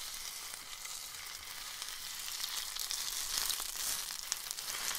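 Boneless chicken frying in 2 tablespoons of oil in a pan, a steady, bright hiss of sizzling that grows slightly louder toward the end.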